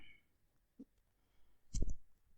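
A mouse click lands on the Finish button of a Node.js installer, a short quiet tick followed by a louder, fuller click about a second later, with near silence around them.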